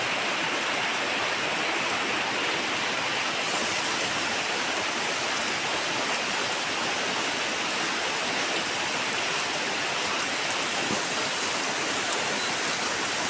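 Heavy rain pours steadily and loudly during a downpour at a home, a dense, unbroken wash of hiss and patter with no letup.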